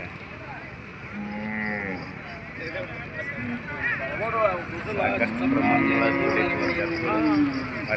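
Bulls low loudly at the Gadag livestock market, several drawn-out moos rising one after another close by, mixed with people talking and general market bustle.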